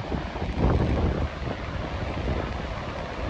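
Gusty wind beside a river gorge at Glymur waterfall, Iceland, buffets the microphone in low rumbling bursts, strongest near the start, with no voices.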